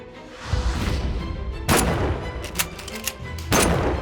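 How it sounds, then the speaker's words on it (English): Three sharp rifle shots crack out one after another, each a loud, abrupt burst with a brief echoing tail, in a Dallas assassination reenactment. "Lee Harvey Oswald fires 3 bullets in quick succession."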